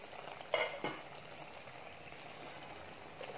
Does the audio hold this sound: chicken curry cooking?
yes